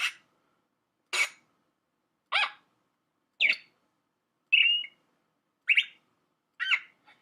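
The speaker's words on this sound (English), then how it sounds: "So you can hear the sound of the bird" Seven short, clear bird calls played from a website, chirpy and whistled, ring out one at a time at roughly even intervals with silence between them.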